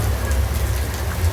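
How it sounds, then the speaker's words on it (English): Heavy rain pours steadily onto a flooded road that has turned into a river, a dense, continuous wash of falling water with a strong low rumble, close and loud throughout. "the rain slowly creeping in, but the road has turned into a river"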